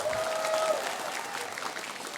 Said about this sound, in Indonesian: Mana tepuk tangannya masyarakat Desa Demule?